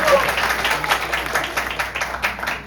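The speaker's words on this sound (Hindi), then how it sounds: "तालियां हो जाए इनके लिए" Audience in a play performance applauds the actors with a steady wash of clapping from many hands, moderately loud and sustained throughout, with speech mixed in.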